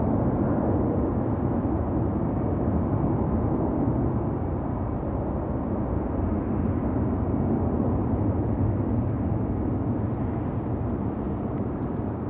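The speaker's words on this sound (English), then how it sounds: "So this is Transavia flight 6916 arriving from Olbia." A Transavia passenger plane landing at Schiphol Airport, a steady, heavy jet roar with low rumbling throughout, loud and sustained with no voices over it.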